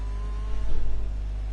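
A Ferrari race car in a racing game pulls out onto the track, its engine note droning with a brief swell in revs midway, close and steady, no talking.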